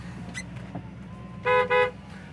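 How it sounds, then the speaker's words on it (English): Two loud honks from the horn of a 1997 Chevrolet Camaro Z28 30th Anniversary, back to back and close, over a low engine idle inside the car. "Horn works"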